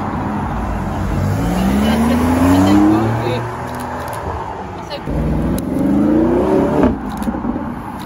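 A Porsche Cayenne Turbo GT accelerates past on a street lined with supercars, its engine note rising twice as it goes by, loud and close, with people talking nearby.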